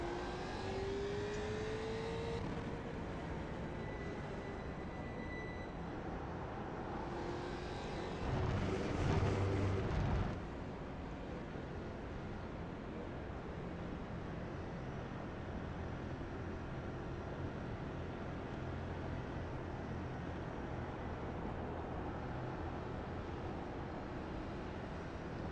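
Mustang FR500S race car engine in iRacing at Brands Hatch, a faint, sustained engine drone with a rising rev sweep early on and a brief louder burst around the middle, no talking.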